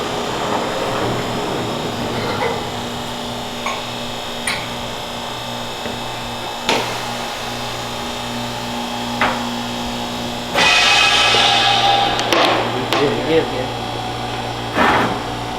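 A vacuum runs with a steady mechanical whine and hum throughout, loud and close, with occasional clicks and a brief surge of hissing airflow partway through.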